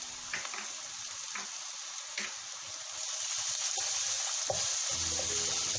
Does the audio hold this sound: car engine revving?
no